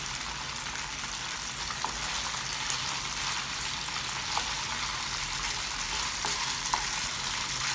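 Chicken pieces for kung pao chicken fry on a medium flame, giving a steady, close hiss of sizzling oil with a few faint crackles and clicks and no talking.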